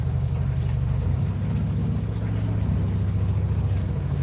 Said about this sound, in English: Couple of motorbikes started.